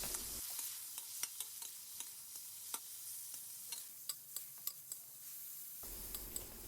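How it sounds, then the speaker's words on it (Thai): Pork stir-fried in hot vegetable oil in a wok for a southern Thai stir-fry with shrimp paste and stink beans: a steady close sizzle with scattered sharp ticks and scrapes of stirring, no talk. "ใส่เนื้อหมูที่เตรียมไว้ลงไปผัดเลยครับ"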